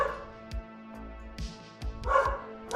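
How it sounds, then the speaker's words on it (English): Several sharp dog barks ring out indoors, spaced unevenly over a few seconds, with the last pair louder and closer together against a quiet room background. "dog's barking"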